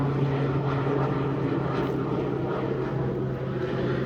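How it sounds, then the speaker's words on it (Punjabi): An airplane passes overhead in Australia, a steady, loud propeller-like drone that holds evenly throughout. "ਜਹਾਜ਼ ਜਾ ਰਿਹਾ ਦੇਖੋ ਮਿੱਤਰੋ ਕੋਲ ਤੇ ਦੇਖੋ"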